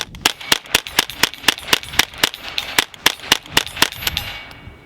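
Rapid fire from an integrally suppressed Ruger 10/22 rifle: about twenty sharp, evenly spaced cracks in quick succession, loud and close, with no talking over them.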